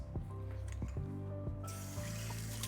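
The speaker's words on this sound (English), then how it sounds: "Quickly rinse off my citrus press." A citrus press is rinsed under a running kitchen tap, giving a soft stream of water with a few clinks and taps of the utensil against the sink, and the flow brightening near the end.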